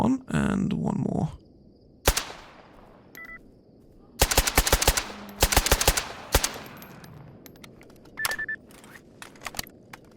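Gunfire in the video game Stalker Gamma, played in ironman mode: a couple of isolated shots, then two rapid bursts of several sharp, loud cracks each, followed by a few scattered single shots against a quiet background.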